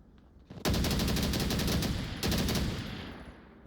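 Automatic rifle fire in the Onward VR video game, two long rapid bursts of gunshots, loud and close, the second starting just after the first ends and tailing off with echo.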